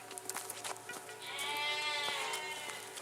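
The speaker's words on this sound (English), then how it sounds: "The sheep are all here saying hello to me." Sheep bleat on a countryside photo walk at Piercefield near Chepstow, one drawn-out, wavering bleat rising over quieter ambient sounds of the flock, fairly close.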